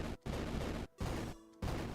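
Explosions from the action-puzzle arcade game Switch Ball Deluxe, three loud booming bursts in quick succession, each filling the sound with dense crackling noise and separated by brief gaps.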